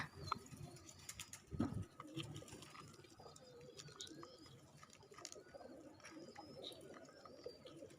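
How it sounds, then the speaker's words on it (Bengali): Pigeons coo softly in a busy loft, with scattered wing flaps and a brief scuffle of fluttering, and faint chirps in the background. "এই যে কবুতরের মারামারি করা এবং জোড়া নিয়ে খাওয়া খাই করা"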